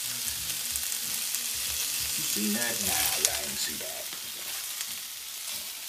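BBQ jackfruit sizzles and fries steadily in a skillet, a constant crackling hiss with occasional stirring, while people talk briefly over it.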